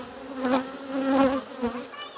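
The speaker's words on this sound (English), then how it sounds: "this frame's got a good number of bees on it" Honey bees buzzing on a beehive frame, a close, wavering drone that swells and fades in several surges.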